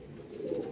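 Pigeons, kept as prized birds for sale, give a soft low cooing call up close, one brief murmuring phrase.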